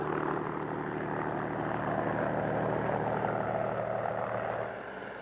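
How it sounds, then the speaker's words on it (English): A steady, loud engine drone with a rotor-like chop from an arriving army helicopter carrying a load, holding level before easing off slightly near the end; no voices. "Here, a new model helicopter comes in with a load that runs right through the aircraft."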